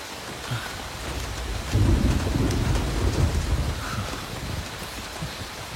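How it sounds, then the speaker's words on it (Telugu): Heavy rain pours steadily, with a deep thunder rumble swelling in the middle and then fading back into the constant downpour. Nobody speaks. "మంచి వర్షం."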